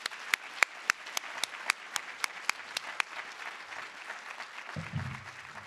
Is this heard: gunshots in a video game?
no